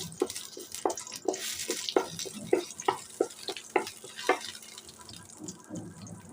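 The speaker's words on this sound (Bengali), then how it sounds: "শুকনো মরিচটা হালকা ভেজে নিব আমি" Dried red chili lightly frying in oil before spinach and sesame are added, a faint sizzle under a series of regular stirring scrapes and taps in the pan, fairly quiet.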